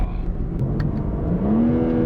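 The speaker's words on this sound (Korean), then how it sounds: "RPM 일부러 한번 띄워보겠습니다." A BMW M3 straight-six held in first gear revs up steadily to about 4500 rpm, its smooth rising drone climbing in pitch, loud and close throughout without talk.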